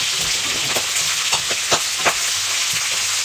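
Pork adobo frying in oil in a pan, browning toward golden, with a steady loud sizzle broken by sharp pops and splatters of spitting oil.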